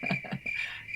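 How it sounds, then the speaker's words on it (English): Crickets chirping at night, a steady high-pitched trill running continuously with faint low thumps and soft background noise beneath. "can you hear the crickets?"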